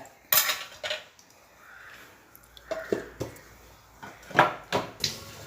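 Cashew nuts being crushed in a kitchen, heard as a series of sharp clinking and knocking taps of metal on a dish, irregular and close, with quieter scraping between hits and no talking.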